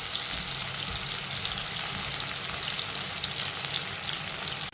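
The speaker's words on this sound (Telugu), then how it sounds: "మంటని సిమ్లో పెట్టుకొని మంచిగా వేయించుకోవాలండి" Fish pieces fry in oil over a low flame, giving a steady, close hiss of sizzling and crackle that runs unbroken from start to finish with no voices.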